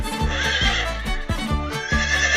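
Horses on a farm neigh loudly and close by. A shaking whinny pulses rhythmically through the short burst, and no voices are heard.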